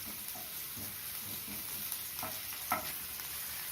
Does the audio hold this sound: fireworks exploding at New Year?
no